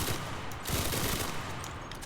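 A Thompson-type submachine gun in the Enlisted video game fires full auto, a loud, continuous rattling burst of rapid shots that runs unbroken with slight swells in intensity.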